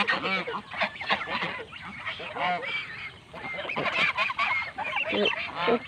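A flock of swan geese honking loudly and continuously, overlapping nasal calls close by with no pauses.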